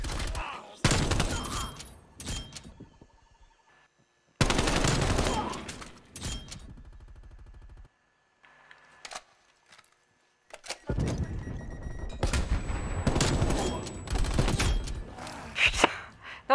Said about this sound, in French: j'essaye de faire deux tirs dans la tête